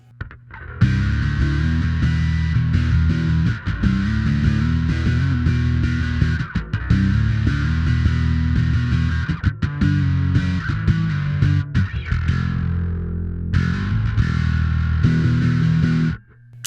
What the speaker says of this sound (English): the Darkglass Microtubes X7, great distortion pedal